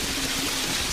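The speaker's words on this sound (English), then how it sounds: "Whipping winds and pounding rain." Heavy rain pounds down during a severe storm with whipping winds, a dense, loud, unbroken hiss close at hand, with no voices over it.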